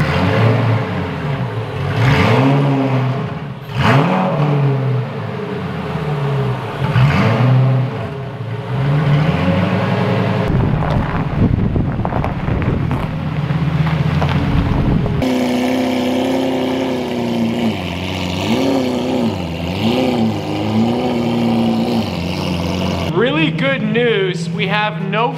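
A Lamborghini engine runs steadily after a cold start, loud and close with shifting revs and a few gear or tone changes, while someone talks excitedly over it throughout.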